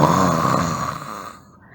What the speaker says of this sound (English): at last the sound snoring shook the house